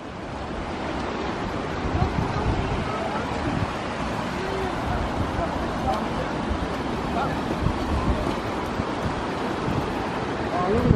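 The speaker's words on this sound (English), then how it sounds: "River, guys." A flowing river in Yosemite rushes in a loud, steady roar close by, with wind buffeting the microphone and faint family voices underneath.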